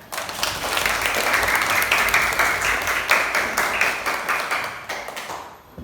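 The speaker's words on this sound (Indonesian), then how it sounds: "Tepuk tangan." A classroom of students claps together, sharp overlapping hand claps at a brisk rhythm, fairly close and even, tapering off toward the end.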